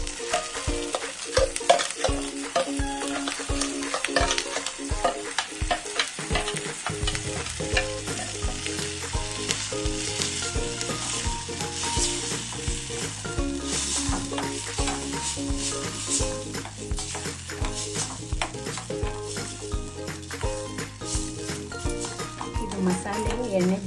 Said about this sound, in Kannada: ಮಸಾಲೆ ಎಣ್ಣೆ ಬಿಡೋ ತನಕ ಸ್ವಲ್ಪ ಫ್ರೈ ಮಾಡ್ಕೋಬೇಕು